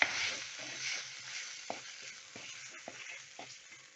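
Ground thippili spice powder is stirred into tomatoes frying in a pan, giving a steady soft sizzle broken by a few light scrapes of the spoon, with no talking.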